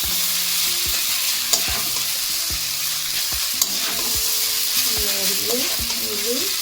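Chow mein noodles are stirred in a hot pan with a steady loud sizzle. Repeated scraping strokes of the utensil sit over the frying hiss, with faint tonal background sound.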